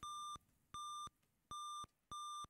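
Four evenly spaced electronic beeps from the DOS game Might and Magic, each a short, bright, pure tone of equal length, steady in rhythm and quiet, with brief silences between.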